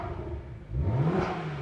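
A BMW 1M Coupe with its N54 engine and aftermarket exhaust revs up. The engine starts as a low idle rumble and then rises abruptly into a climbing rev, heard close with no voices.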